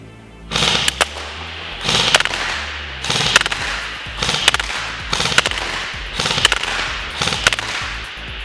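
A Classic Army CA4A1 airsoft replica fires BBs in about eight sharp, evenly spaced bursts, each a rapid crackling rattle of shots, loud and close, with no talking.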